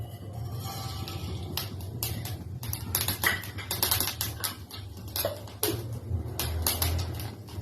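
Mustard seeds pop in hot oil with rapid, irregular crackles and spits over a low steady hiss, close and busy, without talk.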